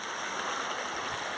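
A natural stream flows nearby with a steady, even rush of water that holds constant throughout, with no voices.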